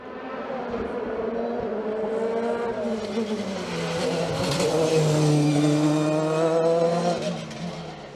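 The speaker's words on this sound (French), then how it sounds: "Didier Brun, le pilote de la Dallara F302 remporte la classe DE 5S, prend la deuxième place du groupe DE" A Dallara F302 racing car climbs the Limonest–Mont Verdun hill climb, its engine holding a high, steady note that swells as the car passes close by and then fades.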